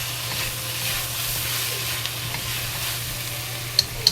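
Lacinato kale and shredded pork stir-fry in a pan on the stove, a steady close sizzling hiss with soft stirring scrapes and two small clicks near the end.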